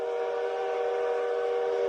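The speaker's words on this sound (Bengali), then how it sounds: "দূর থেকে হুইসেলের শব্দ আসে একটা ট্রেন আসে ধোঁয়া উড়িয়ে থেমে যায় নদীর ধারে" A train whistle sounds as a loud, steady sustained tone for the whole moment, close and unbroken, alone without voices.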